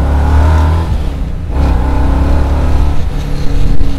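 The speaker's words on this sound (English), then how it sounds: "That's just fun acceleration, man." A custom 600 hp 1968 Camaro accelerates hard, its engine roaring low and loud, revving up through a gear change mid-way and building again, close and alone without talk.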